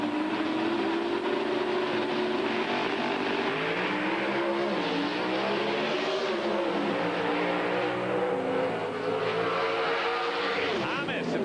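An NHRA Winston Pro Stock drag car, the Pennzoil machine of Mike Thomas, roars at full throttle, its engine note climbing and holding loud and continuous down the strip, with a final shift-like dip near the end.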